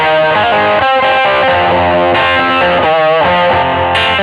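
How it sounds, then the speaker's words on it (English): An electric guitar played through a vintage drive pedal plugin in Logic Pro X. Loud, crunchy distorted chords and riffs ring out, with sustained notes and quick changes. "where you can grab the vintage drive on there and then it'll sound like this"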